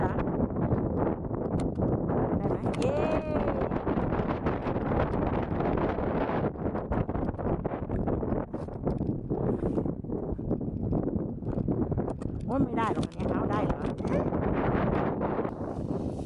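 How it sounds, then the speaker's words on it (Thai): Strong wind blasts across the microphone at an outdoor ski area at a school, a steady loud roar filling the whole stretch with brief whistling gusts. "จะให้ฟังเสียงลมด้วยจะแรงมาก"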